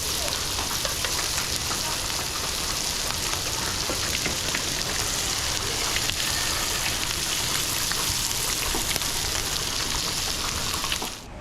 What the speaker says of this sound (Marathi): तर मासे फ्राय होतात तोपर्यंत